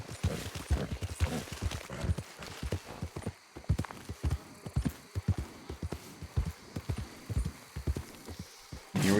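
Horse hooves clip-clopping in the video game Red Dead Redemption 2, a loud, close rhythmic run of sharp hoofbeats, steady for most of the stretch before slowing toward the end.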